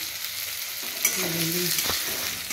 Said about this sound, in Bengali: মশলাটা কষে যাচ্ছে, তেলটাও ছেড়ে গেছে।